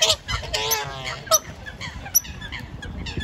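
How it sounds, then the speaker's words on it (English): Canada geese honk harshly in a noisy fight, several loud close calls and squawks over a rough, windy background. "Canada geese scrapping again."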